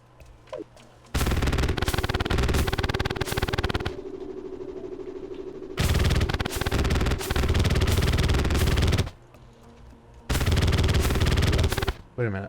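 Loud bursts of rapid automatic gunfire from a firearm in the Terraria video game, several long sustained volleys separated by short pauses.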